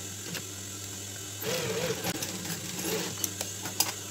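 A sewing machine with a single needle stitches a hat. After a quiet start it begins a soft, continuous mechanical whir, with a few small clicks and taps near the end.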